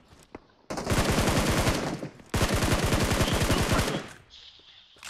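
Rapid automatic gunfire in PUBG Mobile, two long loud bursts of closely spaced shots separated by a short gap, with a faint voice or two nearby.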